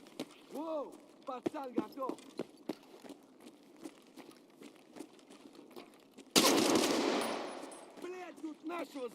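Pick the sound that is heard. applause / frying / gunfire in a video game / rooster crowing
gunfire in a video game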